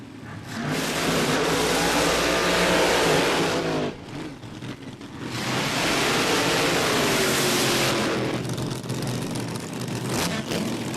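A supercharged dragster and an altered launch side by side at Willowbank Raceway, Queensland, their engines roaring loud and near, cutting out briefly, then another loud roaring burst before fading.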